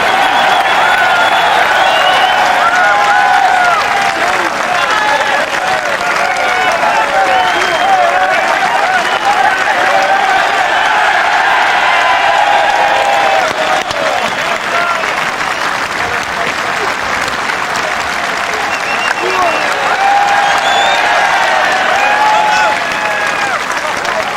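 A large racecourse crowd at the Cheltenham Gold Cup cheers and applauds as Best Mate is led into the winner's enclosure, loud and sustained, with a commentator's voice heard over the roar.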